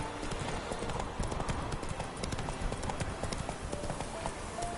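Roach the horse gallops in The Witcher 3, a rapid, continuous clip-clop of hooves pounding steadily throughout, close and prominent.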